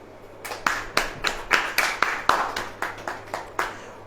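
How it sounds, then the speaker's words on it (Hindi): An audience claps in a steady rhythmic beat, about a dozen sharp claps over a low hum, at a Hindi-language church worship service. "ताली बजाइए।"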